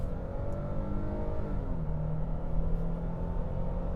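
A 2022 Nissan Frontier Pro-4X pickup accelerates onto a freeway, its engine droning and rising in pitch as it climbs through a gear change, heard steadily from inside the cab with road noise beneath.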